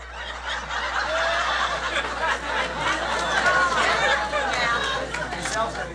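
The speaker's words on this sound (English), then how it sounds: "that's kind of a wild crowd here" A wild rally crowd for a President Obama appearance in West Palm Beach chatters and laughs, a dense, steady babble of many voices with scattered snickers and chuckles throughout.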